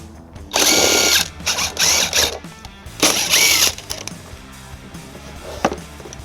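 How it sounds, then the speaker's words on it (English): A 10mm socket on a hand tool works three bolts loose from a driver's-side panel on a 2023 Toyota Sienna, giving loud, close bursts of mechanical whirring and clicking in two main spells with brief quieter gaps. "We're going to use a 10mm socket to remove them."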